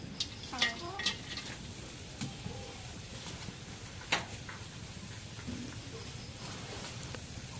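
Chopped onions tipped into a hot pan, frying with a low steady sizzle broken by a few clinks and scrapes of a spoon against the pan.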